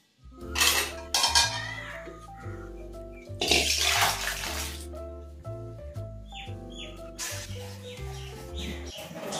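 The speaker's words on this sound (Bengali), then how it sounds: "এই আলুটা আমার কাটা হয়ে গেল, আমি ধুয়ে নেবো।" Cut potatoes are rinsed in a bowl of water in a Bengali home kitchen, giving several bursts of splashing and clinking against the vessel under steady background music.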